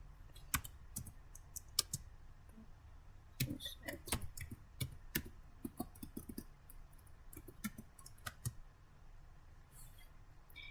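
Typing on a computer keyboard, with quick irregular clacks and key taps in bursts, close and crisp against a quiet room.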